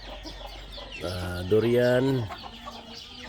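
Chickens clucking around a farm hut, with a loud drawn-out call from a nearby rooster or hen in the middle, over steady outdoor background noise and a brief spoken word.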